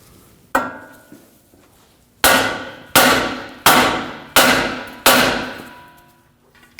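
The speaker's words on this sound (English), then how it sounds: "To do that, we're going to hit on the knuckle here." A hammer strikes the steering knuckle of a 2016-2022 Honda Pilot to free the ball joint: one sharp metallic hit, then a pause, then five loud evenly spaced blows, each ringing briefly.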